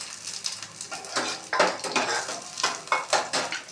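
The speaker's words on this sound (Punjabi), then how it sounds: "ਸੁੱਕੇ ਮਸਾਲੇ ਪਾ ਦਿੰਨੇ ਆ" Dry spices hit hot oil with a crackling sizzle, punctuated by scraping and clinking of a utensil stirring in the pan, close and moderately quiet in uneven bursts.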